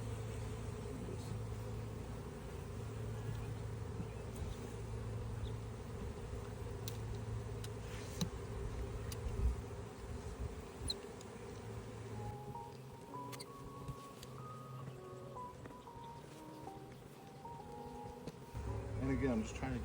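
A swarm of bees gives off a soft, continuous buzz at close range while someone handles them outdoors by a tree branch. Low rumbling and scattered clicks and knocks are also present, and a voice talks.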